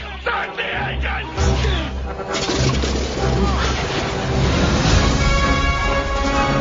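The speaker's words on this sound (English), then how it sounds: "Start the engine!" An engine cranks and catches in a Raiders of the Lost Ark trailer, rumbling to a loud idle and revving amid dramatic music and sound effects, with voices talking over it.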